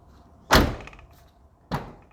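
Extended cab door on a 2000-2011 Ford Ranger, shut twice: a loud solid slam followed about a second later by a second, slightly softer thunk, in a quiet setting with no talking.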